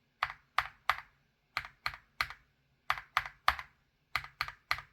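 Keystrokes on lubed Wuque WS Morandi long-pole switches, sharp clacky presses arriving in quick clusters of three with short pauses between, close and isolated in a quiet room.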